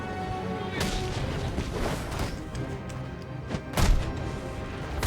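Enemy gunfire in Batman Arkham Origins, a run of heavy booming shots and thuds over a dense rumbling game soundscape, with a louder blast near the end.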